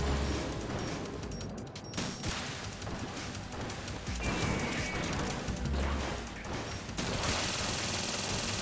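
Missile fire and explosions in the video game Metal Gear Solid 2: dense, crashing bursts and rumbling blasts layered into a loud, continuous barrage with sudden shifts, near and overwhelming.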